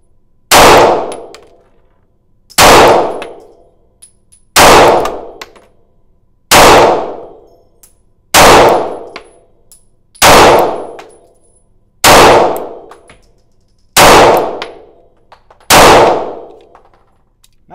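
Springfield Armory Hellcat pistol fired at a target 5 yards away: nine loud, sharp shots spaced about two seconds apart, each with a quick ringing decay, with no talking between them.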